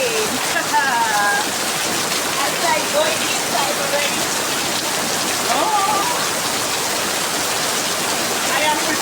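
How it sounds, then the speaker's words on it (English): Heavy rain pours down outdoors, a dense, steady hiss of drops hitting surfaces that stays loud and even throughout, with faint voices mixed in beneath it. "I will just go straight to the rain and enjoy the rain."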